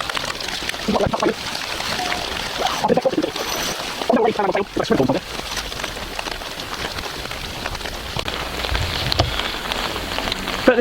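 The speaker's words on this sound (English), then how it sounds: "the rain's coming again, so hail" Rain with hail patters hard and continuously on a budget two-person tent, a close dense drumming with scattered sharper hits, while people talk intermittently over it.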